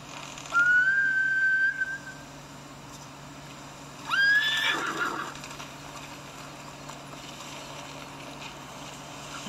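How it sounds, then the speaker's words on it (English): Horses whinny twice in Ghost of Tsushima, two shrill rising neighs a few seconds apart over a quiet, steady in-game ambience. "Bastards scared off the horses."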